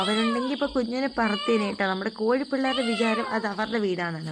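A kitten mews repeatedly in high, wavering cries, close by, overlapping with a person talking throughout.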